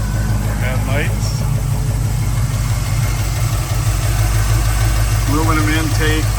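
A 1972 Chevrolet K truck with an aluminum intake, FiTech fuel injection and dual exhaust idles close by with a steady, deep rumble. Someone talks briefly over the engine.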